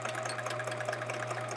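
A sewing machine runs steadily while stitching fabric scraps for a chevron quilt, giving a continuous close mechanical whir with a rapid needle rhythm and a low motor hum throughout.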